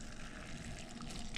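Pickling liquid of dissolved sugar and salt poured into a glass jar while pickling banana peppers, a steady close rushing splash that fills the whole moment with no speech.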